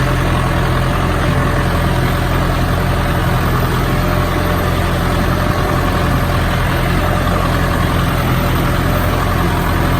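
A vehicle engine pulling away in first gear, a steady loud low rumble that holds close and constant throughout, with no talking over it.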